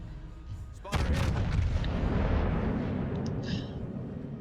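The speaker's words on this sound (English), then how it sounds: "taking a long range shot here at the Minotaur" A battleship's main guns fire a long-range salvo at an enemy ship in a naval warfare video game: a sharp heavy boom followed by a long rolling rumble that fades, with faint background sounds and no talk.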